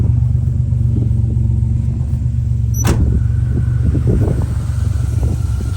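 A turbocharged Buick Grand National, an original 32,000-mile car long left abandoned, idles steadily with a deep, even rumble close by, a single sharp click breaking in partway through.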